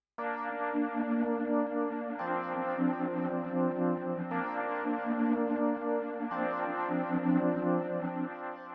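A Behringer Wave synthesizer preset plays held chords that shift every couple of seconds, rich and bright with a smooth, evolving tone.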